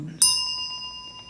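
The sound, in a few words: bell ringing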